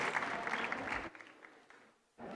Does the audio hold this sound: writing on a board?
no